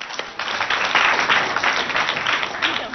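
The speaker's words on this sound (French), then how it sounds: "Sous vos acclamations, s'il vous plaît." A school audience at a provincial competition event applauds a jury member being introduced, a continuous, fairly loud wash of clapping and crowd noise lasting a few seconds with no clear speech.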